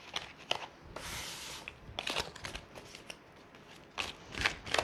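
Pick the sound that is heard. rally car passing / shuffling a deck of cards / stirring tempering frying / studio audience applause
shuffling a deck of cards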